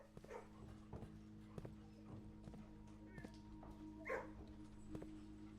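Dog sounds in the video game Blue Prince, with a few short soft yelps and panting bursts set against a steady game soundtrack, heard as the dog is petted.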